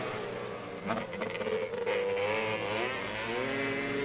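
Quad bikes race on a track, their engines droning and shifting pitch as they pass at a distance, with a steady mechanical roar under faint crowd ambience.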